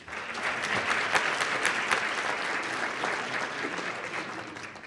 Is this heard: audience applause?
yes